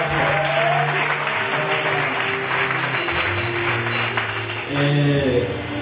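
A church congregation applauds loudly and continuously, a dense wash of clapping with faint voices and music underneath.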